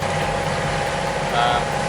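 A sailboat's engine running in normal drive while under way, with an exhaust elbow fault, gives a steady, continuous low drone close by with no break across the stretch.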